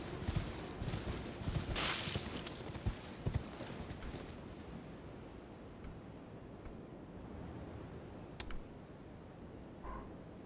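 Horse hooves clip-clop at a steady gallop during riding in the Elden Ring video game, Shadow of the Erdtree expansion, over a wind-like ambient bed, with a few sharper clicks and a bright swoosh near the start.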